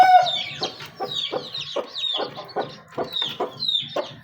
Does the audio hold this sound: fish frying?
no